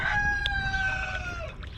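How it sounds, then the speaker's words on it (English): A rooster crows once, loud and close, its long call trailing off over low background rumble. "And we got a noisy rooster"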